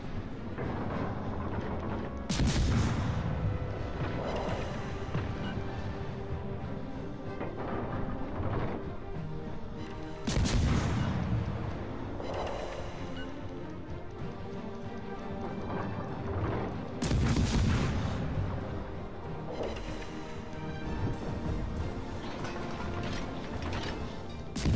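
Naval guns firing high-explosive shells in World of Warships: Legends, with three loud booming salvos at spaced intervals over a steady mechanical rumble of the ship, and no talk.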